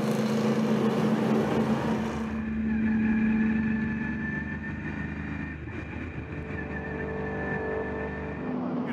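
A race car engine on a track holds a loud, steady drone that eases slightly after the first couple of seconds, then stays sustained to the end.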